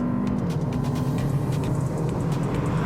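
A small car's engine accelerates hard, giving a steady, loud low drone with a rising note that carries on alone for about three seconds.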